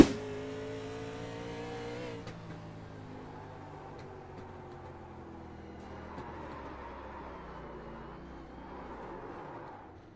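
A stock race car engine roars loudly past at the start on a racing track, then fades into a distant hum as other cars drone faintly, with no talk.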